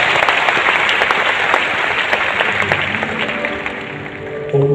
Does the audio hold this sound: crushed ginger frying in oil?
no